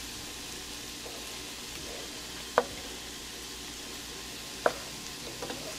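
Breakfast casserole ingredients sizzling and frying in a pan, a quiet steady crackle with a couple of sharp clinks of a utensil against the pan, no one talking.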